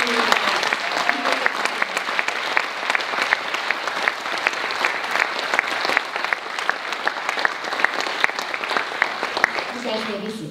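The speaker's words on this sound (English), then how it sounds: "Please give a round of applause to the former leaders." An audience at a graduation ceremony applauds former student leaders with continuous, dense clapping, loud and even throughout, with brief voices audible at the start and end.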